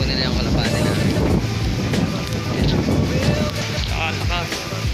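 Strong wind after a typhoon roars and buffets the microphone in a dense, continuous rush, with people talking over it.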